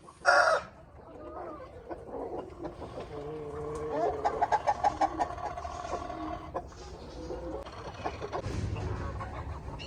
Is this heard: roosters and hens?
yes